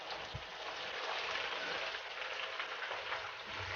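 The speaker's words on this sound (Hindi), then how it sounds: "ऑयल गर्म हो गया, बबल बन रहे हैं ऑयल में।" Hot oil bubbling and sizzling in a pan while cooking a curry, a steady, soft, dense crackle like light rain that continues alone with no talk.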